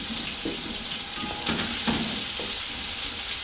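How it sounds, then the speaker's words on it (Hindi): Onions, garlic and ginger fry in oil for a chickpea pulao, a steady close sizzle with soft scraping stirs of a spoon in the pot recurring every second or so. "पहले हम इसे अच्छी तरह भून लेते हैं।"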